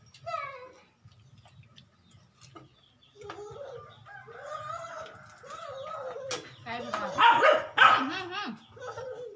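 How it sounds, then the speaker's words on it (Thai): Outdoors in rural Thailand, a rooster crows at the start, then a dog barks and more fowl calls follow while people talk nearby, all moderately faint. "ไก่"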